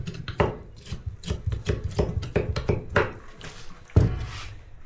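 A sharp knife scrapes slimy membrane off a shark jaw's cartilage in a series of close, wet, rasping strokes at an irregular rhythm, with a heavier scrape near the end.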